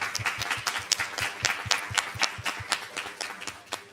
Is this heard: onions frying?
no